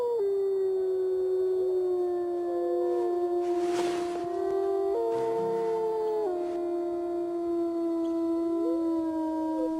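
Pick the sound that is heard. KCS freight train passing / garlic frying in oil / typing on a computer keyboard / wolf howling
wolf howling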